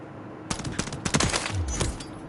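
A Renetti pistol fires in Modern Warfare 3, several rapid, sharp shots in quick clusters, loud and close, with no talk over them.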